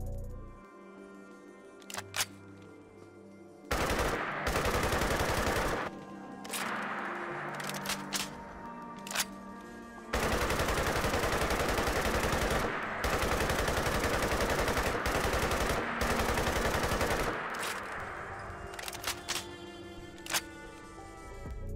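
Loud bursts of rapid Fallout 4 gunfire from a modded gun on Xbox One, several long automatic volleys separated by short pauses, with quieter mechanical clicks between them.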